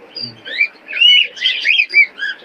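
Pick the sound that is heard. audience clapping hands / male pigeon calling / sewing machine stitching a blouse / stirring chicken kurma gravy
male pigeon calling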